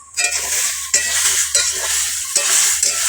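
Vegetables are sautéed in a pan for a fish and gram-flour kofta curry, sizzling steadily while a spatula scrapes and stirs, with several sharp knocks against the pan.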